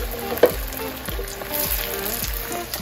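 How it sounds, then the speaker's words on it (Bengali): Tuna tikia patties frying in oil for Eid cooking, a moderate steady sizzle with a brief clatter near the start. "এটা আমাদের টিকিয়া ভাজা হচ্ছে"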